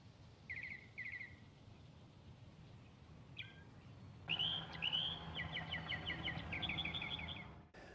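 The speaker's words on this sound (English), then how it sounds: "the sound of crickets is replaced with the chirping of birds" Birds chirp and trill in short repeated bursts, faint at first and then livelier, over a quiet background hush.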